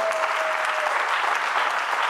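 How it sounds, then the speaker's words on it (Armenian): A studio audience at an Armenian television show claps steadily in welcome of an Iranian-Armenian singer, a dense, even burst of applause that fills the room without a pause. "Եկեք դիմավորենք ծափարություններով"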